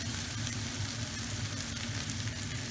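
Thai chicken fried rice sizzling steadily in a hot pan as soy and oyster sauce go in, a dense continuous frying hiss with faint stirring, no voices.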